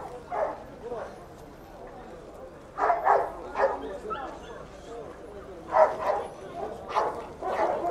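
Month-old poodle puppies at a market in El Harrach bark, yip and whimper in several short bursts, close by, while people talk in the background.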